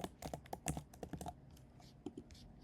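Quick bursts of keystrokes on a computer keyboard while typing a search field during website design work, close and fairly crisp, stopping after about a second and a half with only a few scattered taps afterward.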